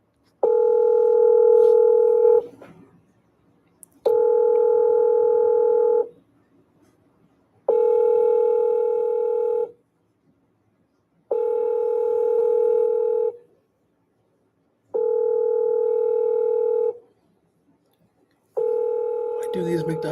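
A phone ringing out while a prank call to McDonald's goes unanswered: six steady electronic rings, each about two seconds long, repeating at an even pace with silent gaps between them, loud and clean.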